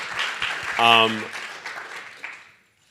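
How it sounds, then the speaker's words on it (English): A conference audience applauds an honoured university professor, a brief burst of clapping that a speaker's voice overlaps before the applause tapers off and falls silent. "Give him a round of applause for that, because it's huge."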